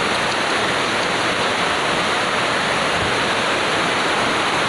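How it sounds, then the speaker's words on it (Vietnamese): Heavy rain pours down in a constant, loud roaring hiss with no break or variation, and no one speaks. "Cái này là mưa"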